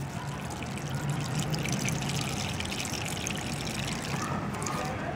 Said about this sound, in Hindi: अब हम इसमें पानी इतना डालेंगे अच्छी तरीके से एक ही दफ़ा में